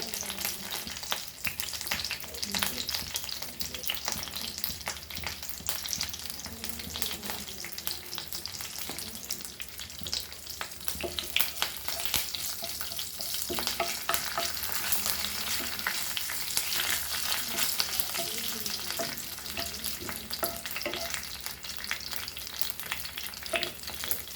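Mustard seeds, curry leaves and hing powder tempering in hot oil for a Goan banana flower bhaji, a continuous crackling sizzle with popping seeds and occasional stirring, steady throughout without speech.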